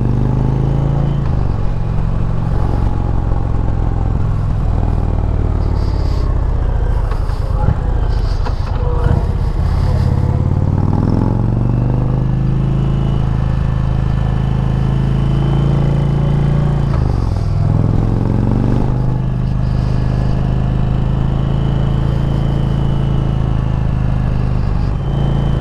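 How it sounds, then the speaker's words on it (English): A 2020 Indian Challenger motorcycle fitted with an aftermarket exhaust rumbles steadily with a deep, loud, continuous engine drone, swelling briefly around the middle and again later, with faint clatter alongside. "Exhaust on here. That's got much bigger bark than stock."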